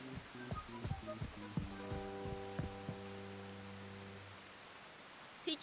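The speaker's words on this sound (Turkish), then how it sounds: "Yağmur başladı." Rain begins to fall as scattered droplets patter on a surface at a soft level, mixed with a low sustained musical tone in the background.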